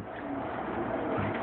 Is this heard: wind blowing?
no